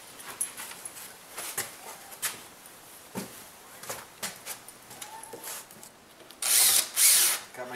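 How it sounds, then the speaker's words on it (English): Screws are driven into plywood with a power driver while building a chicken coop, heard as short clicking bursts and taps, then a louder whirring burst near the end. "Now we just line the plywood up and start putting screws in."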